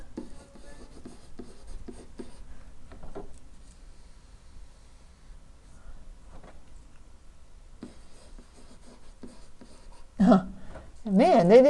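A marker writes on a classroom board during a trigonometry lesson, producing faint scratchy squeaking strokes in short bursts, with a voice speaking near the end.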